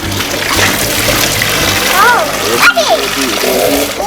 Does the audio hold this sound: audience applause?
no